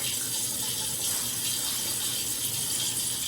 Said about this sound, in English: I'm gonna run some cold water in the sink